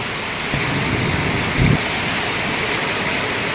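Very heavy rain pours down in a dense, steady roar of hiss, with a brief louder thump partway through and no voices.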